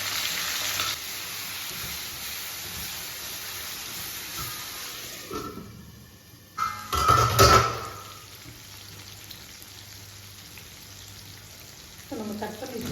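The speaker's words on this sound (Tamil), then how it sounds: "கொஞ்சம் நல்லா வதங்கி வந்துட்டோம். வதங்கிட்டுருக்கோம்." Tomatoes and vegetables sauté in a pan for a dried fish curry, giving a soft, steady sizzle. A brief louder burst of stirring comes in the middle, then the frying settles back to a quiet hiss.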